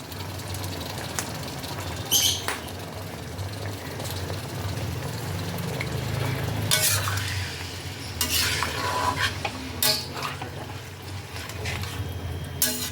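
A jackfruit and shrimp curry with hot water and slit green chillies is stirred in a pot, its spoon scraping and sloshing in repeated close strokes over a low steady background hum; no one speaks.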